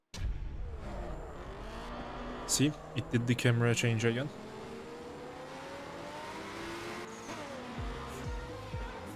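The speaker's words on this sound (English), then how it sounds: "if you give throttle while in this scene, you can actually hear your car" An in-game car engine revs in short bursts midway in the Japanese street racing game Night Runners Prologue, with tire noise, under steady background music and a person talking.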